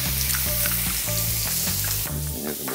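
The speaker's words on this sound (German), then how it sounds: "Dann habe ich hier eine Pfanne und da gebe ich ein bisschen Frühstücksbacon dazu." Breakfast bacon sizzles and spatters steadily in a hot pan, loud and close, a constant crackling hiss with popping bits of fat.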